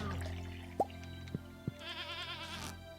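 A goat in the video game Stardew Valley gives a short bleat, followed by two soft plops and a wavering chiming game tone, quiet and close.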